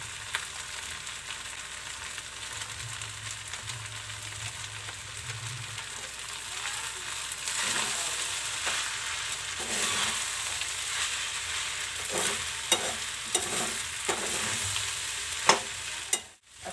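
Veg Schezwan fried rice being stir-fried street style as a whole packet of fried rice masala goes in, a steady close sizzle broken by repeated scraping stirs that grow sharper toward the end.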